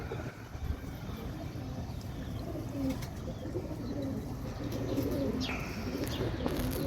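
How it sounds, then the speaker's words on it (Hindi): Sialkoti rooftop pigeons coo softly and repeatedly over steady outdoor background noise, with a few faint chirps. "छत वाले दो कबूतर"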